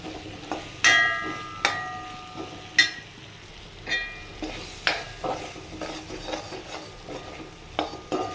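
An onion chutney mixture with salt and chili powder sautés in a pan, a soft sizzle broken by regular metallic scrapes and knocks of a spoon against the pan, up close.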